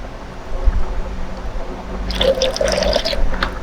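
Water is switched back on after a Cuckoo King Top water filter change, starting with a low rumble and then rushing and trickling into the unit, moderately loud and close.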